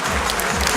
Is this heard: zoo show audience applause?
yes